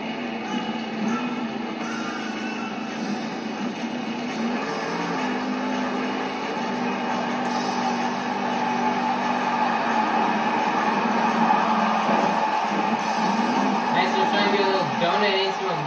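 The El Toro Loco monster truck roars through a donut into a moonwalk at a Monster Jam arena event in Portland, Oregon, its engine revving steadily under an announcer's commentary and crowd noise.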